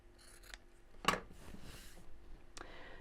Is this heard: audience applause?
no